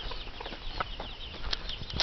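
Young chicks on a farm yard in spring, small chirps and peeps scattered over a soft outdoor rustle, with brief wing flaps and faint movement nearby.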